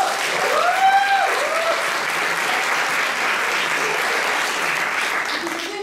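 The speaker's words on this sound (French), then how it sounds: "on a tous les applaudissements" Audience applause at an improv theatre show, broad sustained clapping filling the room, with a brief whistle-like tone near the start and a faint voice underneath.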